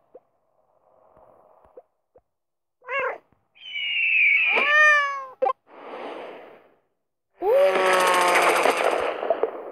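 A cat character in Crossy Road meowing several times in short, separate cries between quieter game blips and pops, clear and close.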